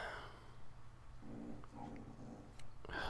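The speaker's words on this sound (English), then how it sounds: "There's my dog groaning in the background." A dog groans faintly in the background with low, throaty murmurs and a snort, under a quiet, steady room hum.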